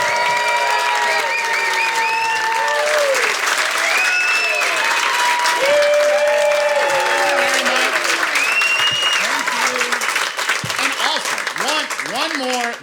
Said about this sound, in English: One more big round of applause for my new friends, Emma and Joey.